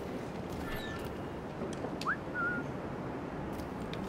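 In Assassin's Creed IV: Black Flag, a character gives a short whistle to lure a guard: a quick rising note followed by a brief held tone, clear over a quiet ambient background.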